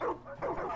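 A dog in the video game Far Cry 5 gives two short whining yips in quick succession, fairly faint.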